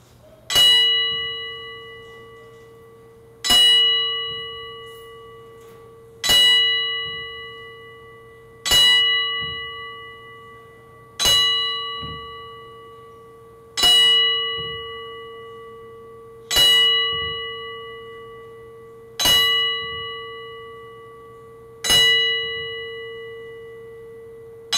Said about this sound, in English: What you're going to hear right now, ladies and gentlemen, is a 10-bell salute.